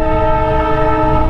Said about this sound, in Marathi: ट्रेन आपल्या उजव्या साईडने जाते. कोकण रेल्वे ती बघा.